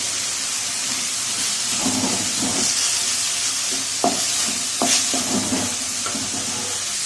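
Shallots and green chilies sautéing in a pan, for a lamb intestine kudal fry, produce a constant hissing sizzle broken by scattered stirring scrapes and clinks.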